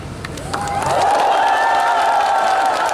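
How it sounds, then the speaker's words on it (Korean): Studio audience at a televised MBC music show taping in Gwangyang breaks into loud, sustained applause and cheering that swells after a quiet start and fills the room. "박수 크게 쳐야 됩니다"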